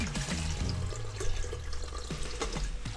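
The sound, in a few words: water poured into a Xiaomi Mijia electric kettle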